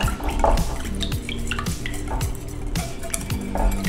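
A spoon stirs homemade tonkatsu sauce in a small container, with rhythmic wet squishes and light clinks of utensil against the dish repeating close up, with no one talking.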